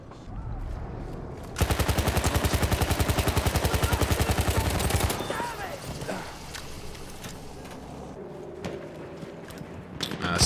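Hellriegel submachine gun in a video game firing one sustained rapid burst of about three seconds, loud and rhythmic, then scattered distant shots and battle noise.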